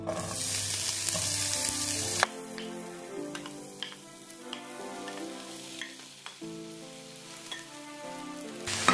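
Pressed garlic, fresh tomatoes and onions frying in oil in a saucepan, starting with a loud, dense hiss that drops off sharply. A quieter crackling sizzle follows with scattered pops and stirring clicks, close by and with no talking.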